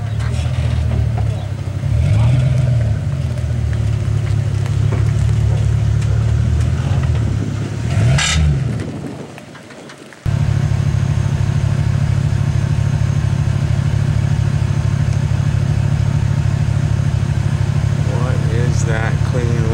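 A car drives along with a steady low engine drone and a noise from its rear end, the engine note cutting out briefly midway before resuming just as loud.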